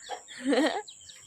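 A chicken in a Thai village yard on a morning clucks in one short, close burst of a few squawky notes, lasting about a second.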